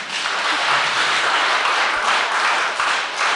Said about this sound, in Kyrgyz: Билимбекке кол чаап койсоңуздар.